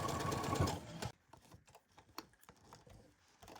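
A sewing machine runs a quick stitching pass around a torn jacket lining, a dense whirring burst for about a second, then lighter scattered clicks and fabric handling sounds close by.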